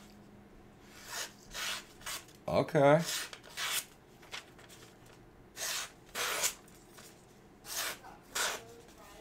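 Jack Wolf and Winterblade knives slice through paper in about eight short, crisp rasping strokes spaced a second or so apart. One brief spoken word is heard.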